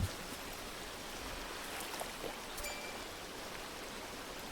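Flowing river water in the video game Among Trees, a soft, steady rushing babble that stays even and fairly quiet from start to finish.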